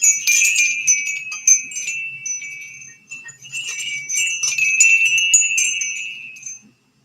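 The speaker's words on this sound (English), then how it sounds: "I'm gonna get demonetized for wind chime sounds." Wind chimes from a witch casket unboxing tinkle in bright, overlapping metallic rings, repeatedly struck in clusters for several seconds before fading out, with no talking.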